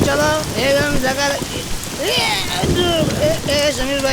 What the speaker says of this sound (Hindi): अरे बारिश, अरे कोई बात नहीं यार